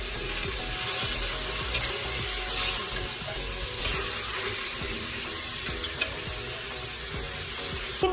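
Steady sizzling of beef flank browning in a hot frying pan, a continuous crackling hiss with occasional light clinks, close by and without speech.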